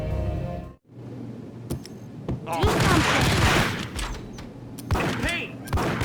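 A Max Payne gunfight erupts after a brief silence: scattered sharp shots, then heavy, dense fire with echoing booms, loud and close, mixed with spoken voices.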